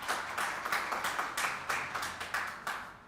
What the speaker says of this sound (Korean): 우리 양정수 의원님께 다시 한번 큰 박수 부탁드리겠습니다